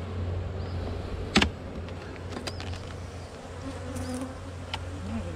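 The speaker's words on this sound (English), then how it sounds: "That's a good wad of bees right there." Honeybees buzz in an open beehive during an October inspection, a dense, steady hum of many insects close by, with a few louder individual buzzes passing near and light handling taps.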